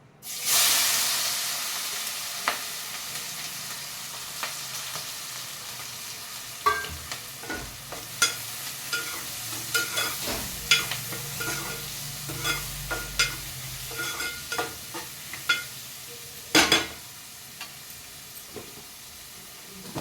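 Onions and fenugreek powder frying in a pan, a steady sizzle that starts loud and eases off, with repeated sharp clinks and scrapes of a spoon stirring throughout.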